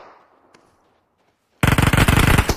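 Automatic gunfire from PUBG Mobile, a loud dense burst of rapid shots erupting suddenly after quiet near-silence and continuing to the end.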